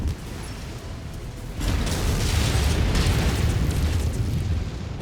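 Weapon fire and explosions in the MechWarrior 5 video game, a continuous roaring barrage of blasts and rumble that swells sharply after a moment and stays loud, with no talk over it.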